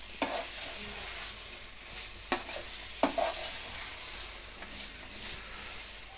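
Ground spice powder is stirred into tomato rice frying in a pan: a steady soft sizzle with scraping spoon strokes and a few sharper clinks against the pot, close up and alone.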